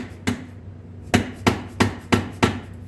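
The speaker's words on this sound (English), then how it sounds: "it's driving in there with a rubber one" Rubber mallet striking an axle bearing on a Kawasaki Bayou ATV, five sharp, dull thuds at a steady tapping rhythm over a low background hum, close and fairly loud.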